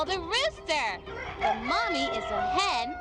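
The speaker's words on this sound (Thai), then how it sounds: "เห็นพ่อไก่ ดูไก่เหล่านี้สิ" A rooster crows repeatedly in the horror game Amanda the Adventurer, bright rising-and-falling calls in several bursts, clear and close, mixed with other animated animal cries and under talking.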